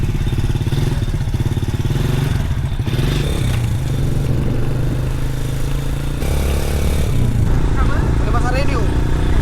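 A motorcycle engine drones steadily and loudly throughout a family ride, with rumbling wind and road noise and voices talking over it.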